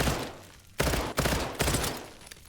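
Three-round burst pistol in a video game, heard as sharp, loud bursts of rapid gunfire, each group of close shots followed by a fading tail, repeating several times.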